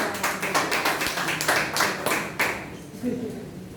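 A church congregation claps along during a worship service, with quick, loosely rhythmic bursts of hand claps under a voice that keeps talking throughout.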